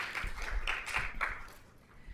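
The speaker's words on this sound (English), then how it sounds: "Applause, please." Audience applause at an innovation pitch night, a steady wash of many hands clapping at moderate distance that continues through the whole stretch and tapers slightly near the end.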